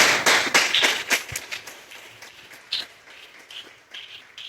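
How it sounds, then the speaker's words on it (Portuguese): A church congregation claps in a burst of scattered, fairly close applause that fades into lighter, sparser claps over a few seconds, with no speech. "Aplauda Jesus!"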